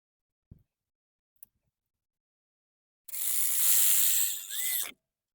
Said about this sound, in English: we can put this and secure it to this bracket and tighten that bolt right there